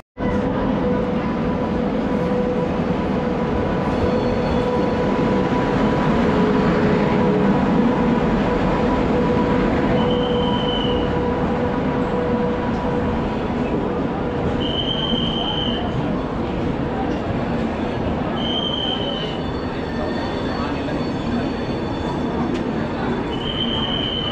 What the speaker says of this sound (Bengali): তো সবে ট্রেন এখন ঢুকছে